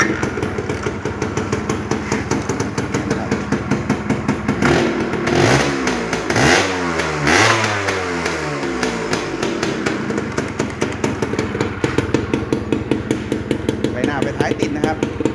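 Aging Honda Tena 110 motorcycle engine running close by during a final workshop check, a steady rapid clatter with a rev rise and fall around the middle, with someone talking over it.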